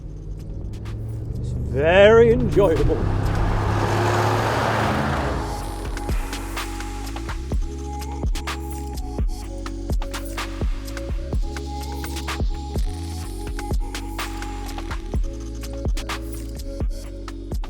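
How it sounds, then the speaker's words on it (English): Mercedes-Benz G63 with a V8 twin turbo engine, a rising rev that swells loudly near the start and then settles into a low, steady idle rumble while someone talks over it. "This has the V8 twin turbo engine."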